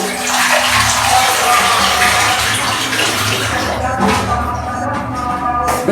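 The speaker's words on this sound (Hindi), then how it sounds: "तो ये 2 kg हम इसके अंदर ये पानी ऐड कर दिया।" Water streams steadily into a cooking pot for beef pulao, a loud, continuous close-up rush that carries on for several seconds with no talk over it.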